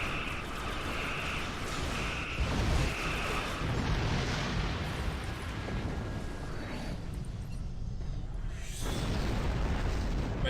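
Spaceship combat in Star Trek Online, with rumbling explosions and bursts layered over constant space battle noise, loud and continuous, with a few repeated tonal beeps early on.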